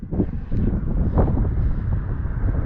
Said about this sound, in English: the wind's not as bad up here as it was down below